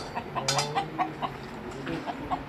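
Chickens cluck in a coop after a cobra got inside, a run of short, fairly quiet, regularly spaced clucks and squawks close by, with no talk.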